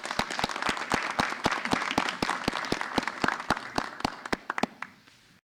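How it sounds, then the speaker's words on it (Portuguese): A small audience claps for the poet Gabi Farias at a poetry podcast session, a steady run of sharp, distinct hand claps close by that thins into a few scattered final claps before stopping. "Salve de palmas para Gabi Farias, por favor."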